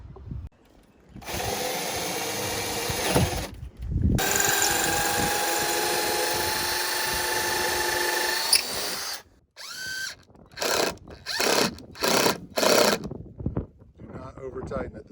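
A power drill bores holes through a Boston Whaler boat deck for mounting Power-Pole shallow-water anchors, giving two long whining runs followed by a string of short bursts, close and loud.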